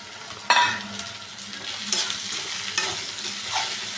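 Meal maker chunks being stirred into biryani in a pan, with a soft sizzle underneath and a few sharper scrapes and clinks of a spoon against the metal, close and free of speech.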